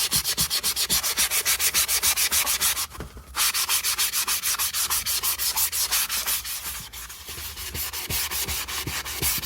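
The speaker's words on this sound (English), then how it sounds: "So I'm just going to start off with some sandpaper right here." Sandpaper scrubbing cracked plastic on a Toyota Tercel inclinometer, loud close rasping strokes in a steady fast rhythm, with one brief pause before the strokes resume and slightly soften.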